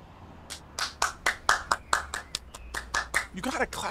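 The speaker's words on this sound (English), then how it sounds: "You gotta clap it up, bro." About a dozen sharp hand claps close by, spaced unevenly at roughly a third of a second, ending in a quicker flurry, with no other sound between them.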